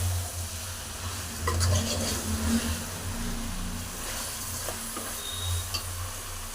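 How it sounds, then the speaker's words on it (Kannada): Chicken coated in salt, chilli powder, turmeric, chicken masala and garam masala being stirred and fried in a pan, a continuous moderate sizzle with repeated scraping and stirring strokes, no voices. "ಎಲ್ಲ ಹಾಕಿಬಿಟ್ಟು ಈ ಥರ ಫ್ರೈ ಮಾಡ್ಕೊತಾ ಇದ್ದೀನಿ ನೋಡಿ"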